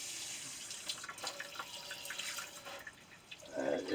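A kitchen faucet in an RV runs steadily, a close hiss of flowing water with small drips and splashes into the sink that grow louder toward the end.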